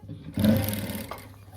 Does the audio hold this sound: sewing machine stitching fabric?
yes